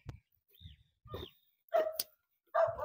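Dogs bark outdoors on a Philippine farm on a morning walk, several short sharp barks spaced apart, with a couple of louder, higher yelps near the end, fairly close and alone.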